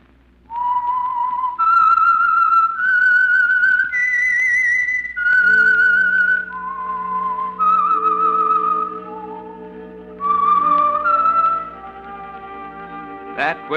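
Whistled theme signal of The Whistler mystery radio program, a clear melodic tune of sustained and sliding whistled notes, loud and alone, with an orchestral background joining partway through.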